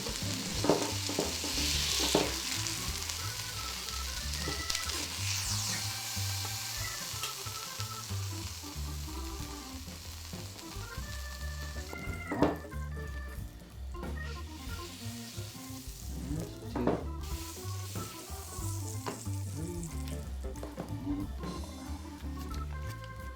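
Burger patties finishing in a hot pan give off a continuous close sizzle and fry, with occasional scrapes and stirring clinks scattered through it.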